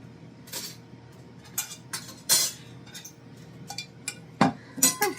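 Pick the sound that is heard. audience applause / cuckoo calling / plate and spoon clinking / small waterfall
plate and spoon clinking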